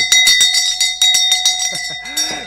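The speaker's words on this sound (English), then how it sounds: "I'm going to ring a bell to that one too" A bell rings rapidly and repeatedly, loud and close, with bright clanging strikes in quick succession.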